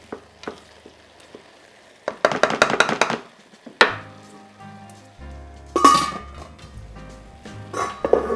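Cabbage stirred in a pot for vegan cabbage roll soup, with bursts of scraping and rustling, then a clattering lid set back on; moderate loudness, no talk.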